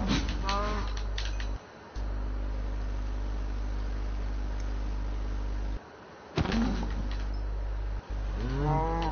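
Cow mooing in a blocky survival game, several drawn-out moos near and loud over a steady low droning hum, with pig-like grunts and game background noise.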